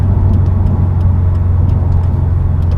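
Steady road and tire roar from a 2016 Subaru WRX STI on newly fitted wheels and tires, a continuous low rumble with engine hum throughout, no talking.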